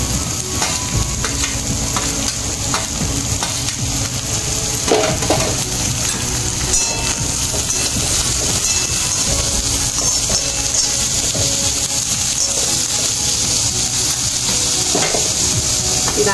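Chopped capsicum stir-frying for spring roll filling, a loud, continuous sizzle with steady stirring and occasional scrapes and clinks of a utensil against the pan, no talking.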